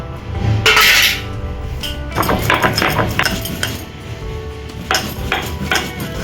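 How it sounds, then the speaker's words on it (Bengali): Hot fried spices being ground on a stone slab with a grinding stone (shil nora) for a vegetarian potato chop, with hard clinks, knocks and scraping strokes, close and fairly loud, in irregular bursts. "এগুলোকে শিল নোড়াতে একটু গুঁড়িয়ে নেবো"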